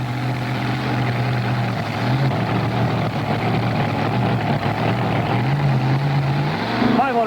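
A 1993 NTPA 1800 class mini modified pulling tractor runs at a tractor pull in Scribner, Nebraska, producing a steady, loud engine roar that drones on throughout while an announcer's voice runs faintly underneath.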